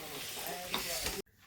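Dates sautéing in ghee in a wok make a close, steady frying hiss with soft stirring scrapes, then cut off abruptly near the end.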